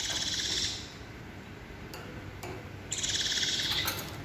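Baby birds raised by hand and learning to feed themselves on dry bird food give high, rapid chirping calls in two bursts, one at the very start and one near the end, with a quiet gap between them.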